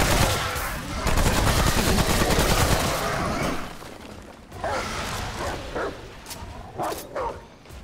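Dogs bark amid gunfire in the video game Remnant From the Ashes: dense rapid shots roar at first, then thin out into separate bursts and barks, loud and close throughout.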